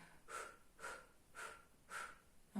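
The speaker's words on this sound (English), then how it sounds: "it's a really simple breath. It's just blowing out." Slow breaths blown out through the mouth in a pregnancy yoga labour breathing exercise, four soft, evenly spaced exhales close to the listener, quiet and with no talking.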